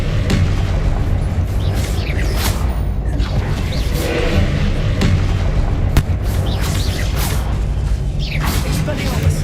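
Confringo blast spells exploding in Hogwarts Legacy, a dense stream of booming impacts and crashes over a steady rumble, with several sharp bangs standing out among them.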